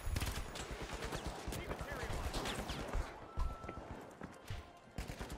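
Rapid automated turret gunfire in The Finals, a dense run of sharp repeated shots that keeps going under hectic game sounds and a voice shouting.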